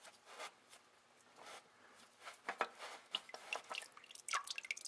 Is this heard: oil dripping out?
yes